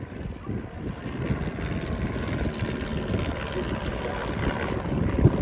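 Steady propeller engine drone from a tailwheel aircraft flying at the Farnborough International airshow, a loud, continuous broadband rumble holding even throughout with slight swells and no voices.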